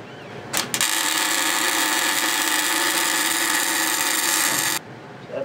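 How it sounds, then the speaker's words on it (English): Arc welding on a differential gear casting, a warm-up pass to heat the metal while welding the gears into a spool: a steady, loud crackling buzz runs continuously for about four seconds, then stops. "That's my warm-up weld"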